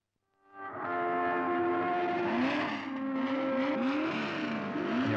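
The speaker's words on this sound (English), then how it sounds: "Racing at Brands Hatch." Several race cars scream past at Brands Hatch circuit in the 1950s–1970s, engines loud and continuous with rising and falling revs and Doppler pitch sweeps as they pass close by, overlapping one another after a quick fade-in.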